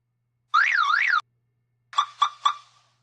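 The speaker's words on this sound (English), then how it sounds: "So down here, I added a sample from a car alarm." A sampled electronic car alarm warbles in a rising-falling tone for about a second, then a few short chirping blasts follow after a pause.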